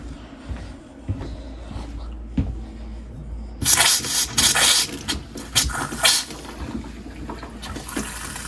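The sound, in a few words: water running from kitchen sink tap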